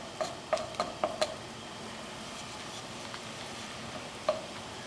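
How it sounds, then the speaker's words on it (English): Noodles cook in a pan with a soft, steady sizzle, broken by a few light clicks and taps of a utensil near the start and once more toward the end. "And then I'm going to add this noodles in here, and then start cooking"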